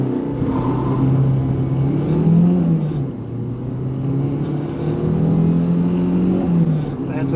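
A Renault 5 GT Turbo accelerates hard from a standstill to 80 km/h on a road, its engine note climbing loud and steady through gear changes with a brief dip around the shift.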